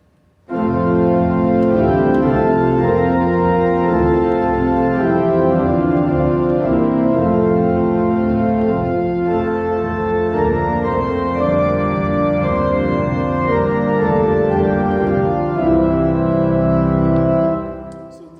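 Sustained organ-like chords play alone in a stately, march-like introduction, with a low bass line stepping downward beneath full, steady harmony.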